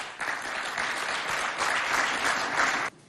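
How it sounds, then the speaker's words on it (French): Audience applause at a school event for CEG de Belaba in Moundou, Chad, a steady dense clapping that fills the room for nearly three seconds, then stops abruptly. "Ala Mbatna Doumra, sous vos applaudissements."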